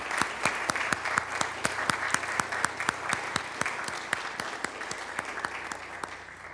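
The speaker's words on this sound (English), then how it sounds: "let's give a round of applause for Mr." A room of meeting attendees claps in a steady round of applause, dense and even throughout with sharp individual claps standing out, no speech over it.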